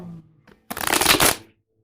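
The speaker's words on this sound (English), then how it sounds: "I think that deserves a shuffle of its own." A deck of tarot cards is briskly shuffled in one burst lasting under a second, close and crisp, after a few faint handling taps.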